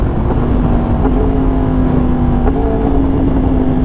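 A Yamaha R1 motorcycle with a quick shifter and flashed ECU runs loud and close throughout, its steady engine drone broken by brief tonal shifts as it downshifts while riding.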